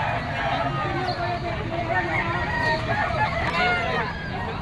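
A stag rooster for sale at the Bocaue pet market, with fowl crowing and clucking amid a steady hubbub of crowd babble and vendors talking nearby.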